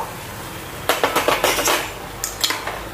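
Metal spoon scraping and clanking against a pot while stirring gavthi (country) chicken masala, a quick run of about six close clinks followed by two more after a pause.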